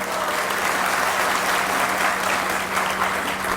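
A crowd at a political rally breaks into sustained applause, a loud, even wash of many hands clapping with a constant background hum and no speech over it.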